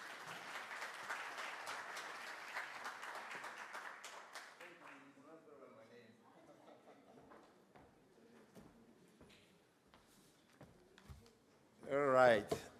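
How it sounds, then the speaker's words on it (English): Audience applause at an African Energy Week 2023 oil market conference session, a dense burst of clapping for about four seconds that fades into scattered claps and room noise, with a brief loud surge near the end. "A round of applause,"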